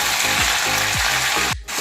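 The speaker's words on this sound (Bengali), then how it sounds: "এবার আমি ক্যাপসিকাম আর পেঁয়াজগুলো দিয়ে" Capsicum and onion fry in a pan with chopped ginger and garlic for chili chicken, a loud continuous hiss with rhythmic spatula scrapes, ending in a brief pause.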